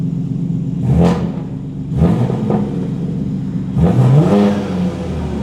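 Throttle blips from a BMW G80 M3 running with its exhaust valve open: three sharp revs, roughly a second apart, each rising and falling over a steady rumbling idle, loud and close with no speech.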